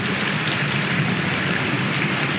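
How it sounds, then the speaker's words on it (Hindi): Heavy storm rain pours down steadily, a dense continuous hiss of downpour hitting surfaces, loud and close with no pauses or voices. "तूफानी हवाओं के साथ बारिश ने गली मोहल्ले डुबो दिए।"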